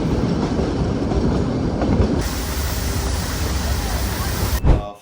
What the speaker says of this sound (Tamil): நம்ம தமிழ்நாடோட ப்ரைட் ஊட்டி டாய் ட்ரெயின்.